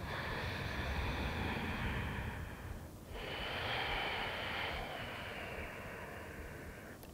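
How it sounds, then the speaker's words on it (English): Slow, steady breath during a yoga practice, a long airy inhale-exhale rush that dips briefly midway and then resumes, close and continuous with no talking. "take one more audible breath here"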